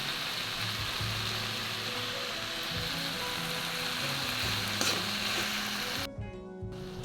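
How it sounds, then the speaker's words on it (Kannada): Vegetable palya sizzles in a pan, giving steady, close frying hiss with faint low stirring scrapes that runs unbroken, then drops off abruptly near the end. "ನಾನೀಗಿಲ್ಲಿ ಪಲ್ಯವನ್ನು ಬೇಯಲಿಕ್ಕೆ ಇಡ್ತಾ ಇದ್ದೇನೆ"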